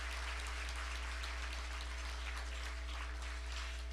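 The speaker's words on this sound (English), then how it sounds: "Can we have a round of applause for all of our sponsors and our partners today?" A room of guests at an American Arab Chamber of Commerce event gives a round of applause for sponsors and partners; the clapping is faint and distant, under a steady electrical hum.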